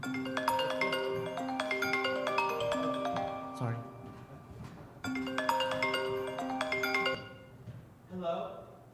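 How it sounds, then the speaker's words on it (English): A phone ringtone plays a bright repeating melodic pattern twice, moderately loud, with brief speech between the rings and a short beep after. "Whose phone is that?"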